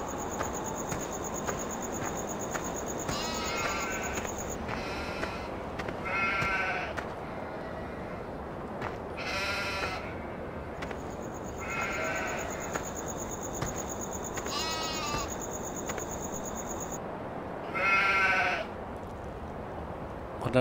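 Several sheep bleat in short wavering calls at irregular intervals in the video game Farm Simulator, alongside a steady high insect-like chirping and soft ambient noise.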